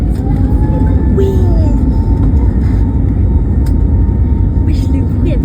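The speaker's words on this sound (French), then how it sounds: "On décolle. Inch'Allah, il y a un bon son de moteur." Airbus A321neo jet engines roar steadily during takeoff, heard from inside the cabin as a loud, continuous low rumble with vibration throughout.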